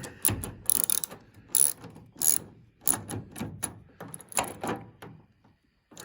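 Ratcheting wrench tightening a part during a Ford F-150 blinker bulb repair, with bursts of quick clicking strokes repeated in short runs, close and fairly loud, without talk.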